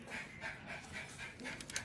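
A dog pants in quick, steady rhythmic breaths, close and fairly quiet, with a faint whimper near the end.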